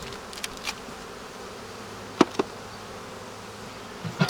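Honeybees from a strong overwintering colony on ten frames buzz steadily in an open hive, a continuous low hum with a few sharper passes of individual bees close by and no talk.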